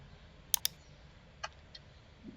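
Brief bursts of typing on a computer keyboard while writing C code: two sharp key clicks close together, then a couple of softer taps after a pause, quiet and isolated with no talking.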